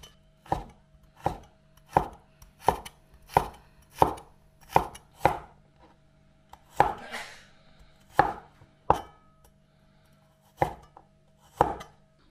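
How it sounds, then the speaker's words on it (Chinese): A kitchen knife chops scallion, ginger and garlic on a cutting board in a steady run of sharp, close thuds, about a dozen strikes with a brief irregular pause midway, and no talking. "最后再切点葱姜蒜，"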